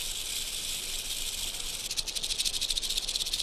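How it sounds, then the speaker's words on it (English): A rattlesnake shakes its rattle, giving a dry, hissing buzz that runs steadily and then breaks into a faster, pulsing flutter toward the end. It is alone, with no voices. "The quality of the sound depends on the size of snake and the length of its rattle."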